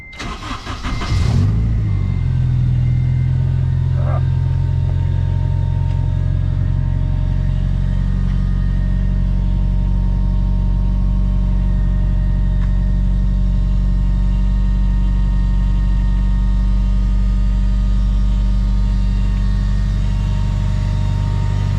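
Supercharged Acura RSX, tuned on 93 pump gas, starts and settles into a loud, steady, close engine drone that holds evenly throughout with no voices.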